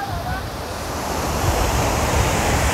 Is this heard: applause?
no